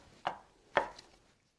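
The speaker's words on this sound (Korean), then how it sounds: "표고버섯도요. 그냥 사각으로 큼직하게 이렇게 썰어 놓으시면 됩니다." A kitchen knife strikes a cutting board twice while cubing potatoes and shiitake mushrooms, two crisp close chops about half a second apart, then quiet.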